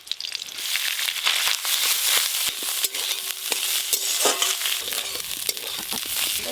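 Boiled fish roe frying in oil in a pan, a steady close sizzle with scraping stirs and crackles throughout, no talk.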